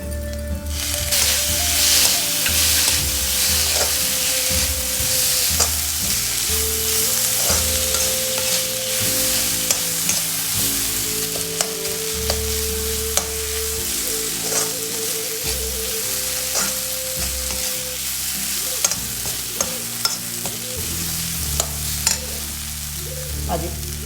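Chopped tomatoes fry in a hot pan and are stirred while cooking egg paniyaram, giving a steady, loud sizzle throughout with scraping and tapping strokes of a spoon at irregular intervals and no talking.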